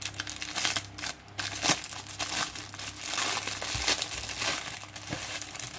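A packaged roll is unwrapped by hand, its plastic wrapping crinkling and crackling loudly and close by in irregular bursts over a steady rustle, with no talk.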